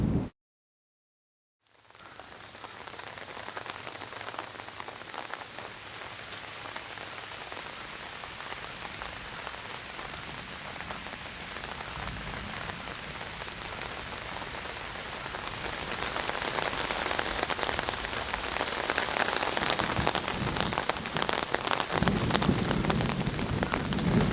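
Steady rain patters densely on leaves and surfaces, beginning after a brief silence and growing heavier toward the end, with a low rumble underneath.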